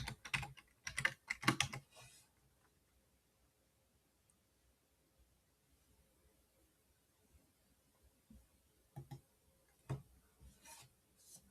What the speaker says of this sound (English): You need to type the password.